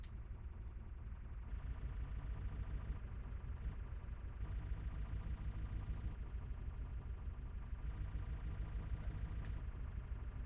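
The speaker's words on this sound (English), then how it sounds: "As I press control, the pitch of the engine goes higher." A vehicle engine idles in the Scrap Mechanic video game, making a steady, low droning hum that shifts slightly in pitch a few times over the span and plays alone without speech.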